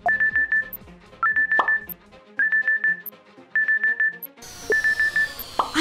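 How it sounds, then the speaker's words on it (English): A smartphone alarm goes off in a children's animated fairy-tale story, sounding as loud, repeated bursts of rapid electronic beeping with short pauses between them. "Right then, the alarm rang on the smartphone."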